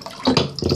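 Water pouring from a tap into a container to soak scented orbeez beads, two short splashing gushes close by, loud and without talk.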